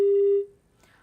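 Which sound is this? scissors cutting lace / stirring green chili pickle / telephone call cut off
telephone call cut off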